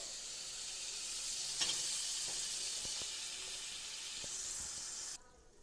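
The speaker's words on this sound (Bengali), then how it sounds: "মাংসটাকে এখানে আমি কিছুক্ষণ কষিয়ে নিলাম" Washed meat stir-fried in a pan, a soft continuous sizzle and hiss with a few light utensil taps, fairly quiet and without talk, cutting off abruptly at the end.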